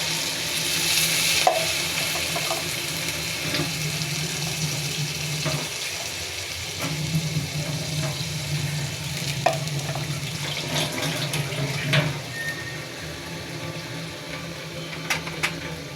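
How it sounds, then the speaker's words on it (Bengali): Water poured into a pan of frying baim eel fish for a Bengali bhuna curry, a steady loud sizzle and bubbling with watery splashing and stirring clinks throughout, no talk. "পানি দিয়ে দিচ্ছি।"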